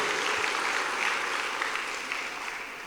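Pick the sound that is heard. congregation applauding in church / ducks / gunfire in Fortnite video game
congregation applauding in church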